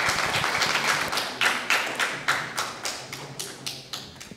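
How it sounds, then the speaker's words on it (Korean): A small audience at a health lecture claps to welcome a hospital director to the stage, the applause thinning into a handful of distinct, loud claps with short gaps between them and fading toward the end. "여러분 큰 박수 부탁드립니다."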